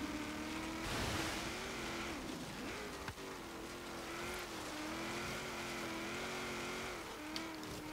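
A 2007 Toyota Hilux Arctic Trucks AT38 on an autocross lap, its engine droning steadily and rising and falling with revs, with brief tire noise, heard up close and continuous with no talking.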